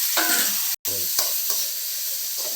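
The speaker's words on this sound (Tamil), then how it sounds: "தக்காளி நல்லா வதங்கணும்" Onions and tomatoes sauté in a pan for a chili-based gravy, a close, even sizzle broken by a few spatula scrapes and one brief dropout.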